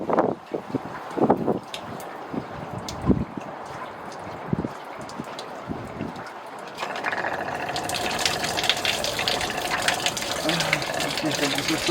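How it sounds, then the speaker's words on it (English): Water gushing from a leaking Evolution Aqua Surge aquarium filter being taken apart; someone talks over scattered knocks first, then a loud continuous rushing splash takes over for the second half, close to the microphone. "Now lots of water coming out now."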